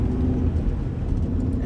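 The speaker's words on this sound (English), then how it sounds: "I just started up my vehicle just before I left my shop" Ford Ranger engine idling just after start-up, a steady low rumble close by with no talk.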